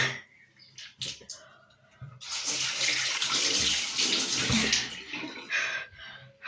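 Water runs from a tap while washing, a splashing, hissing rush that rises after a couple of seconds of faint handling noises, close by and steady, then tapers with gentle splashes.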